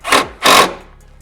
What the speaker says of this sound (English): I'm gonna go ahead and get this drill down into here. Oh, gotta go in reverse.